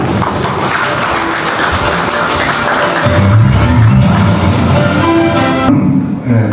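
An audience at a Korean farm leaders' association anniversary ceremony applauds to welcome the chairman to the stage, with dense clapping that swells midway and carries on steadily, along with music and crowd noise.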